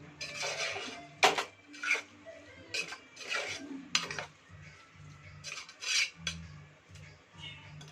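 A metal spoon scraping and stirring carrot drumstick curry in a pan, in a series of short rhythmic scrapes and clinks, close and fairly quiet, with no talk.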